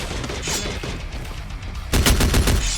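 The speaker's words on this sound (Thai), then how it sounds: "แล้วเวลาเรายิงกระสุนไปเนี่ย มันก็เลยกลายเป็นเหมือนเสียงเรายิงกระจก" Video game gunfire in Free Fire, with bullets striking a glass dome wall: rapid bursts of shots, fairly close, building to a heavier, denser volley near the end.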